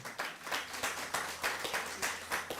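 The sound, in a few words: audience clapping for the MP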